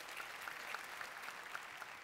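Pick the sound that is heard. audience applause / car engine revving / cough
audience applause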